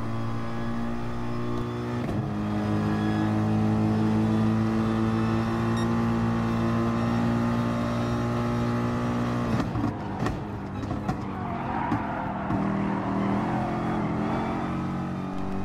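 Nissan GT-R race car engine in a racing video game, holding a steady tonal drone that shifts pitch around two seconds and again near ten, with brief rougher noise afterward and no talk.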